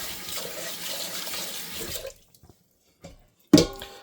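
Rice being rinsed under a running kitchen tap: a steady rush of water for about two seconds, then it stops, with a few faint knocks and one sharp clatter near the end.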